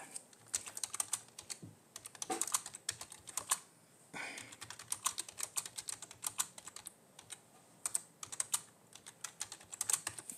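Rapid, uneven clatter of keys on a computer keyboard, a close, quiet run of bursts and short pauses with no voices.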